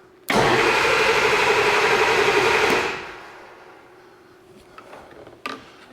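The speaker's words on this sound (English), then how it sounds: "and I'm gonna bump the starter." A diesel engine's starter is bumped with a test plug fitted during an IPR fault check, giving a loud sudden burst of cranking that holds steady for over two seconds, then cuts off, leaving faint clicks and rattles.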